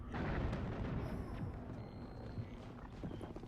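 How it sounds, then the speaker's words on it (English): Dense, continuous rumble of distant explosions and gunfire in the video game Mass Effect, a steady low roar with faint pops and bursts throughout, no voices. "Seems like there's still gunfire going on."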